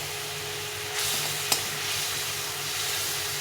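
Bay leaves dropped into hot fried spices for ghugni: a continuous close sizzle, swelling about a second in, with a brief sharp click at the midpoint and steady frying afterward.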